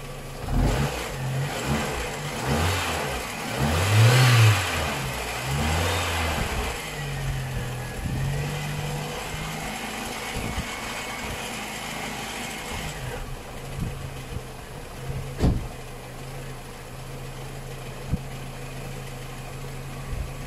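A car engine idles, then its revs are raised and fall back in several swells, mid-pitched and fairly close, with a faint clatter as it settles and a few mechanical knocks.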